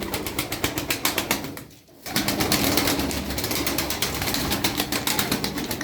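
Tumbler pigeons flapping and fluttering close by in a continuous rhythmic flutter, with a brief lull partway before the wingbeats resume.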